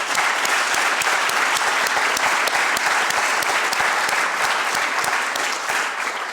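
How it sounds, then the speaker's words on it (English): A large audience gives a warm, sustained round of applause at a fellowship demo day, dense continuous clapping filling the room at a steady loudness with no voices standing out. "please join me in giving them a warm round of applause for their continued support"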